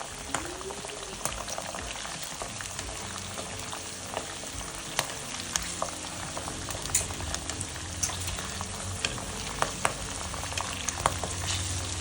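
Dried red chillies frying in a pan for spicy puffed rice, giving a continuous dense crackling sizzle with scattered small pops, close and steady throughout with no voices.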